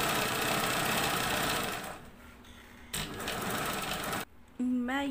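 An electric sewing machine stitching old cloth strips for a handmade doormat, a fast steady whirring hum that stops and restarts in short bursts, close and loud, with someone speaking briefly near the end.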